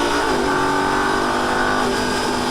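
A Lamborghini Gallardo on a Las Vegas track holds a loud, sustained engine roar while shifting up. The pitch dips and settles as the gear changes.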